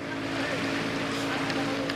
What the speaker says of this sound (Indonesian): Aku sendiri memutuskan untuk duduk di atas kap speedboat dengan beberapa anak muda